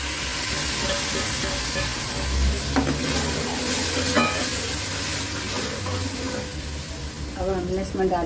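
Chopped tomatoes sizzle loudly in a hot oiled pan while a spoon stirs and scrapes them, the frying hiss continuous and close with occasional clinks; a voice talks over it.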